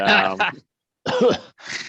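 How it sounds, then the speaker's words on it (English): A person coughs and clears the throat in exaggerated bursts, three short harsh fits separated by silence, close to the microphone, as if coughing up granite. "I'm going to very dramatically cough up some granite from my mouth"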